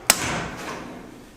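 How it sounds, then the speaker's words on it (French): A hammer strikes a center punch on the engine block of a car with a 1.9 TDI engine, one sharp close metallic tap that rings and decays over about a second. "Je vais mettre un petit coup de pointeau."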